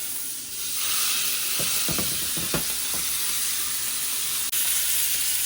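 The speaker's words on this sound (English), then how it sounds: "And you only need like 1 minute max on each side to get a good sear." A steak sears in a pan with butter and beef tallow, a loud continuous sizzle rising sharply after a quieter start, with a few scraping knocks from a utensil in the middle.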